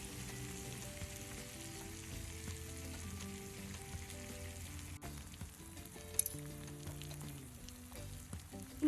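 Sardines fry in hot oil in a pan for a Kottayam-style dish, giving a constant bubbling sizzle that stays even and fairly quiet, with a brief sharper crackle midway.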